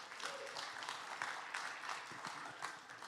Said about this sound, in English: please help me in a round of applause to welcome up Katerina Connery